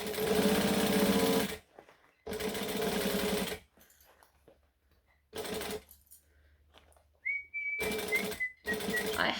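A sewing machine stitches and back-stitches a crossbody bag in several loud, close bursts of rapid whirring, separated by quiet pauses.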